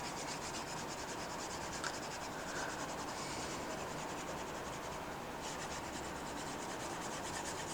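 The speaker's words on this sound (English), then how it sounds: "I'm going to erase the top again just to create some more room." Steady, faint rubbing as the top of a board is erased, a continuous soft scrubbing texture that persists for several seconds with no talking.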